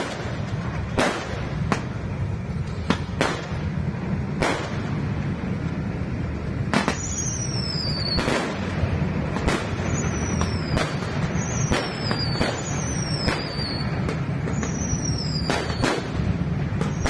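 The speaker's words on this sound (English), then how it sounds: "That's not music. Those are fireworks in the background." Fireworks burst in the background at the Splendid World Fantasy Land amusement park near the Sky Dragon roller coaster, a series of sharp separate bangs with whistling trails over a steady low rumble.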